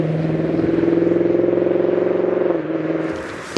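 A Lexus IS500 with a naturally aspirated 5-litre V8 revs loud and near, holding a steady rising note, then easing off toward the end before a sharp burst.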